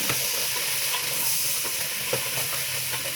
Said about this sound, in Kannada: ಫ್ರೈ ಆದಮೇಲೆ ತಲೆ ಮಾಂಸ ಹಾಕ್ಕೊಂಡು ಒಂದು ಸ್ವಲ್ಪ ಅರ್ಶಿನ ಅದ್ರ ಜೊತೆಗೆ ಉಪ್ಪು ಮತ್ತು ಒಂದು ಸ್ವಲ್ಪ ಖಾರ ಹಾಕ್ಕೊಂಡು ಚೆನ್ನಾಗಿ ಫ್ರೈ ಮಾಡ್ಕೊಳ್ಳಿ